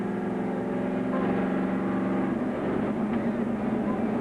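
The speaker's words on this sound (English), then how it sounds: "we can hear his engine sound up here" A continuous race car engine roar at the 1986 Motorcraft 500 drones steadily throughout, shifting slightly in pitch, heard somewhat distantly without any talking.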